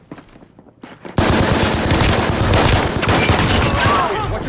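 Sudden dense automatic gunfire bursts out in Call of Duty: Modern Warfare after a quieter moment with distant shots, rapid loud volleys continuing without pause.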